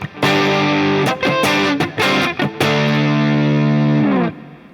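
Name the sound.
electric guitar through amp modeler with reverb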